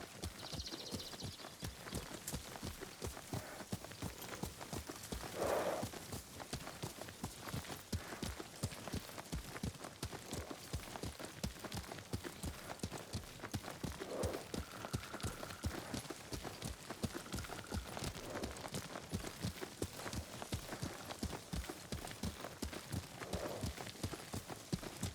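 Horse hooves clip-clop in a steady, rapid rhythm throughout a ride in the samurai video game Ghost of Tsushima, with a few faint voices and sounds layered over the continuous hoofbeats.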